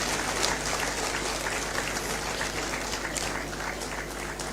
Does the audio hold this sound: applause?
yes